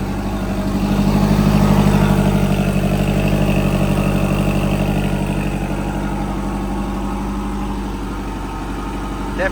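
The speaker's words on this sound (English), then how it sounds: "I'm just gonna let it idle and warm up." A turbocharged Polaris RZR Pro R engine idles steadily just after a fresh tune, a low continuous rumble with a faint mechanical flutter, fairly close and even in level throughout with no talking.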